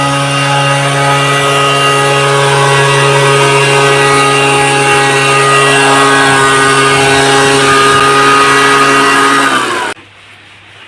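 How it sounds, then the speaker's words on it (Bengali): A tea leaf cutting machine runs in a tea garden, its small engine droning loudly and steadily with a strong buzzing hum for about ten seconds before it cuts off abruptly. "এটা হচ্ছে চা পাতা কাটা মেশিন, এভাবেই আমরা চা কাটি"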